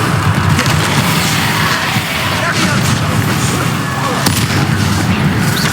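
Bombarda and Confringo spell blasts in the Hogwarts Legacy video game, loud continuous booming and crackling combat bursts, packed close together, with a voice shouting over the din.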